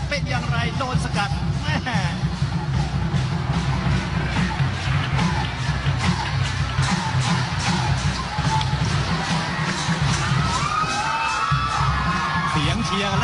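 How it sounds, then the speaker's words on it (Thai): Stadium crowd at a women's football match between the Thai national women's team and a combined side cheers loudly and continuously, with whoops and yells rising over a dense roar, while a commentator talks throughout. "เสียงเชียร์ลั่นสนามครับเสียงเชียร์อย่างนี้ครับ"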